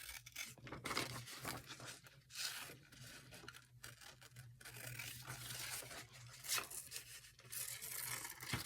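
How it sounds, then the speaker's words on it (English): Paper being cut out by hand, a Dear Julie Julie digital print for a craft embellishment, with close, continuous crisp snipping and rustling and a steady low hum underneath. "I'm going to cut this one out."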